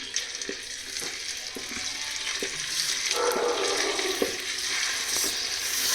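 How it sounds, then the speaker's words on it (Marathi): Goat fat fries in a clay pot while being stirred slowly, a continuous crackling sizzle with soft scraping strokes at a gentle, regular pace. "ही चरबी पहिल्यांदा टाकून घ्यायची चरबी टाकल्यानंतर एकदम स्लो पद्धतीने हलवून घ्यायची"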